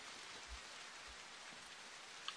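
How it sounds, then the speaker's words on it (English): Rain falls steadily in The Walking Dead: 400 Days, a faint, even hiss of drops on surfaces with no voices. "Oh, the rain... Won't let up today."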